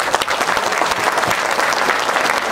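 Loud applause from a packed hall at a Hindi comic poetry (hasya kavi) event, dense crowd clapping with crisp individual claps standing out, steady for the whole stretch without speech.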